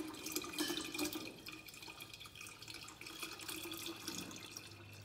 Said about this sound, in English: I just fill it with regular tap water